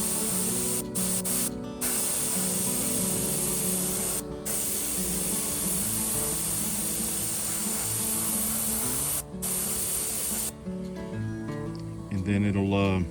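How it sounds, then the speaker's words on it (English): Steady airbrush spray hissing almost continuously as a light coat of blue paint goes onto a carved wooden mallard duck, broken by a few brief pauses, with low talk or background sound running underneath. "I'm just going to spray this light coat of blue on here first"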